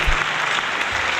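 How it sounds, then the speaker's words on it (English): A crowd at a film carnival ceremony at Ramoji Film City in Hyderabad breaks into loud, thick applause, a continuous roar of many hands clapping close and full. "Only when the applause gets louder, we will have them join them on the stage."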